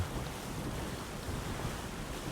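Steady wind and rolling surf around a small sailboat at sea in the survival game Windbound, a continuous broadband rush with no voices.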